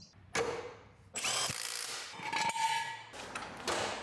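A power tool bolts the wheels back onto a Nissan Navara pickup, firing in several short loud bursts with brief quiet gaps between them.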